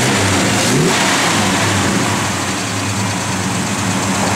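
1968 Plymouth Road Runner with a mild cam, its engine revving loudly up close, a throaty rumble that swells early and then holds steady, with no talking.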